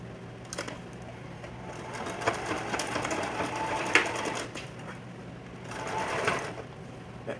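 A sewing machine stitches a 6x6 closure onto a mesh dome cap. It runs in steady, close bursts of rapid needle chatter, swelling and easing over several seconds, with no talking.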